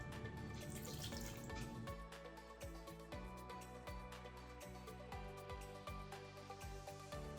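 Water splashes and trickles steadily from a tap or jug into a pressure cooker, about half a glass, with small clanks of metal underneath, continuous and close.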